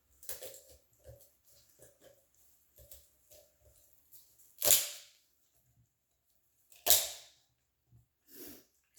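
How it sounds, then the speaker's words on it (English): Tupperware poultry shears crunch through chicken rib bones along the backbone, with a run of small snips and crackles building to two loud, sharp cracks and a final softer crunch, close up. "what you're hearing is I'm cutting through the rib bones and all the other stuff."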